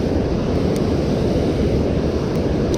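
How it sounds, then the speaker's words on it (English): Fast-moving water of a Pennsylvania trout stream rushes in a loud, steady, close roar that fills the whole stretch without a break, with no voices. "a lot of moving water"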